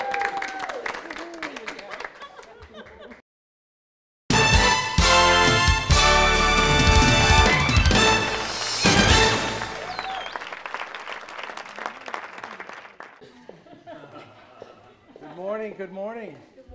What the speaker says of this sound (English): Now everybody claps.